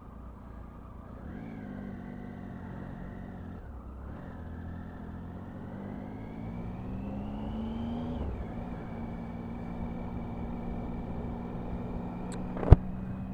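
A motorbike ridden without its side fairings gives a steady engine drone whose pitch climbs and dips with throttle and gear changes, building slightly louder, with one sharp click near the end.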